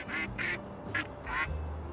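A duck quacks in the video game Little Kitty, Big City, with four loud, close calls in a quick uneven series and no talk over them.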